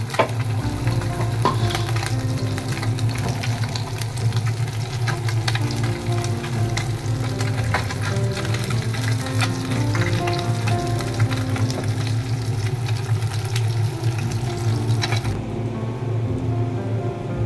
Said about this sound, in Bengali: মাছগুলো আমি সব ভেজে নিলাম।